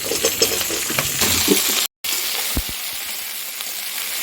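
Tomato and drumstick pieces go into a hot frying pan and start sizzling, a steady hiss with a few clinks, broken by a brief cut and then quieter crackling.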